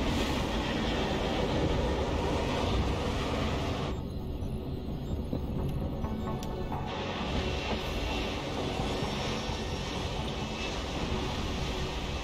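An aircraft comes in to land in the video game Deus Ex: Human Revolution, a steady, loud engine roar that holds throughout and briefly dulls in the upper range midway, with no talking.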